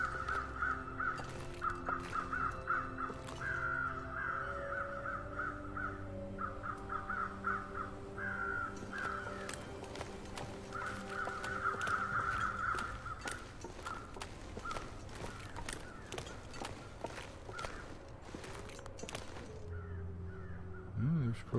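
Crows caw repeatedly in a snowy wilderness of The Long Dark, harsh calls recurring in bursts through the scene over steady wind, with scattered crunching footsteps and a voice talking at times.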